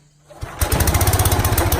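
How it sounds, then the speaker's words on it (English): A small gas engine, choked and on its first pull, coughs and then catches at once into a loud, steady, fast-pulsing running roar that holds close to the end. "turn on the gas, hit the choke. Gonna be the first pull, Brady?"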